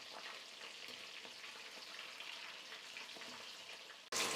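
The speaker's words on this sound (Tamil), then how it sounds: "காளானும் வந்து பார்த்திங்கன்னா ஒரு 2 நிமிஷம் ஃப்ரை பண்ணாலே போதும், வெந்து வந்துடும்" Mushroom snack pieces fry in hot oil with a steady, dense sizzle that stays even throughout, then swells sharply louder for a moment at the very end.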